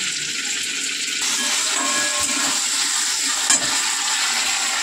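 Fish frying in hot oil gives a dense, even hiss, close and steady, with one brief louder crackle partway through and no talking.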